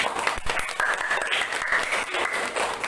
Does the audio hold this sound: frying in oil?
no